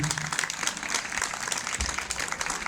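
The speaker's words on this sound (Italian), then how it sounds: "Facciamo un applauso a tutte le donne presenti." An audience at an outdoor town concert applauds together, a dense, lively patter of many hands clapping at once for a few seconds.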